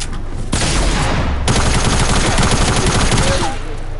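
Gunfire in Fortnite, a loud burst of rapid shots cracking out in a dense volley, starting sharply and rattling on for a few seconds before cutting off.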